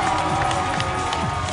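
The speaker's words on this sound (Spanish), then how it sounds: "Un aplauso para" Studio audience applauding and cheering for a guest on a Puerto Rican TV comedy show, a dense, steady wash of clapping and crowd noise filling the whole moment.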